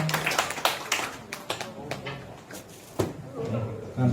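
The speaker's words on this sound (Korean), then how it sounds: "우리 힘찬 박수로 축하하겠습니다" A youth worship congregation in a church claps to celebrate, a loose scatter of hand claps rising and falling under a speaker's voice.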